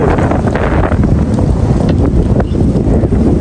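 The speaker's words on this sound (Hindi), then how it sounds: "हवा देखने कितनी तेज़ चल रही है" Strong wind roars and buffets the microphone continuously, a loud, steady rumble with no voices.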